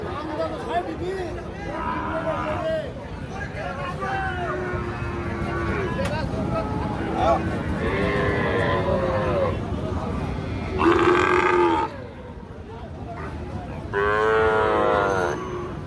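Cattle low and moo repeatedly amid a busy crowd at a village cattle market, with people talking throughout and a few louder, drawn-out calls toward the end.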